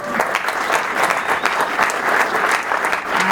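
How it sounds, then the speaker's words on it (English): An audience gives a round of applause at a launch event, loud, close clapping from a crowd that holds steady throughout, with a faint voice beneath it. "please, one round of applause"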